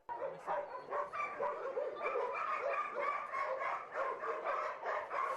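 Several dogs at an animal shelter bark and yip continuously at close range, overlapping loud, rapid barks with occasional whimpers throughout.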